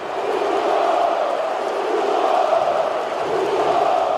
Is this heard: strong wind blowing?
no